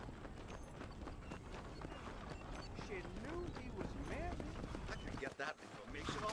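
Horse hooves clip-clop at a run in Red Dead Redemption, a steady rhythmic beat mixed with game music and background sounds, while people talk over it.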